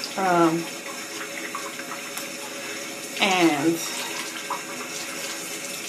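Cold water runs steadily from a household tap, a close continuous hiss and splash broken by brief bursts of a voice near the start and again midway.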